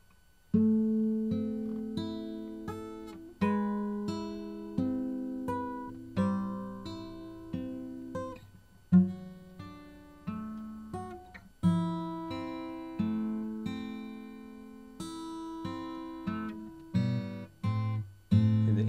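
An acoustic guitar plays a riff slowly, plucked notes with each phrase ringing out and decaying before the next, with no talking.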